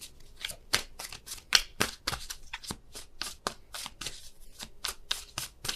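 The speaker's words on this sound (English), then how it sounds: "There's still a ton of cards coming out." Tarot cards being shuffled by hand in a loud, rapid run of crisp riffling bursts, each snap and flutter close and distinct, with no voice over them.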